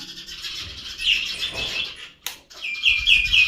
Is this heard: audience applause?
no